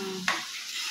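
Dhekia fern greens fry in a pan for an Assamese meal, a soft steady sizzle broken by one quick scraping stir, close and brief.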